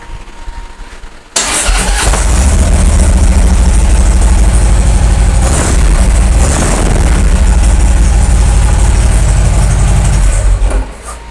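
A Harley-Davidson motorcycle engine, just fitted with new rocker box gaskets, cranks and catches, then settles into a loud, steady, close idle for about nine seconds before shutting off.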